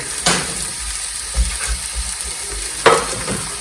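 Coconut pieces fry in oil for an Idukki-style boti curry while a spoon stirs them, a loud close sizzle broken by a few distinct scraping knocks against the pan.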